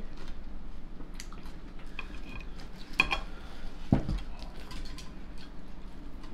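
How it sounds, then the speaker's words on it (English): A knife sawing through steak on a plate at a home birthday meal, with soft scrapes and a couple of sharper clinks of metal on the plate over a low room hum. "let's cut some steak"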